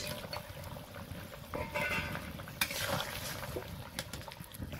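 Water simmers and bubbles in a cooking pot, a soft continuous gurgle with a few faint clinks of utensils, close but fairly quiet.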